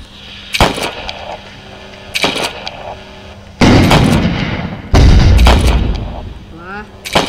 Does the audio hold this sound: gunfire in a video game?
yes